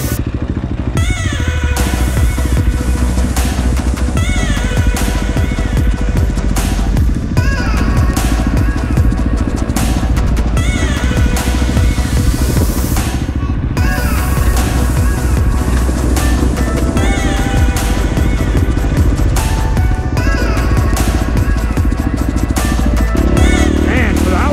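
A dirt motorcycle rides down a desert canyon in first gear, its engine buzzing loud and close throughout with repeated revs and surges, wind roaring over it.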